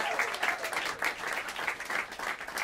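Warm applause rises from the crowd at a jazz club as the bass player is introduced, a continuous patter of many hands clapping together, fairly near and even in level throughout.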